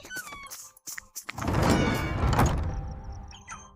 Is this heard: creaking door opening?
yes